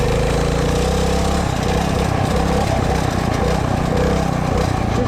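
A small mini bike engine revs hard and continuously during a ride while the rear tire drifts, a loud, buzzing, steady drone with slight pitch wavering and no pauses.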